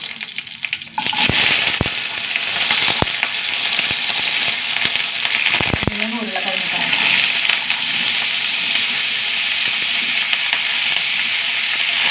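Dried red chillies, curry leaves and onion are dropped into hot oil in a pan, with a burst of loud crackling and sizzling followed by steady frying hiss and a few clinks of stirring.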